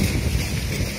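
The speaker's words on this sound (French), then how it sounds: "Il y a tellement de vent que la barrière est tordue." Strong storm wind roars steadily against the microphone, a dense, continuous rush with low buffeting and no pauses, loud and close.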